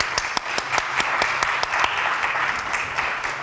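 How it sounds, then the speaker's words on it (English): Audience applause for speakers at the close of an agriculture and food industry panel at a conference, dense steady clapping with a few sharp individual claps standing out, alone. "So let's give them a round of applause."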